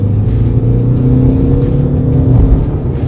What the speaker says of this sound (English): even though it's a diesel engine, if you rev it, it doesn't sound all that bad.